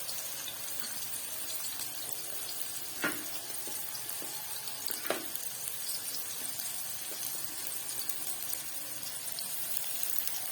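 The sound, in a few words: onions frying in hot oil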